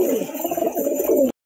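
Madrasi pigeons coo softly at a pigeon sale, a few low throaty burbling calls close by, heard alone before cutting off abruptly.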